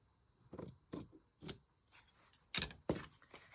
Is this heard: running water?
no